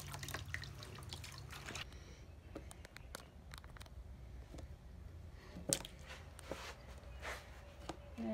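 Water drips and splashes softly in a dog's bath, small scattered plinks and light sloshing at low volume, with a sharper splash near the end and no talking.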